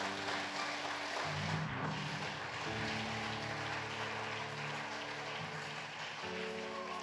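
Congregation applauding in a church service, a steady sustained wash of clapping with a low sustained organ or keyboard tone underneath throughout.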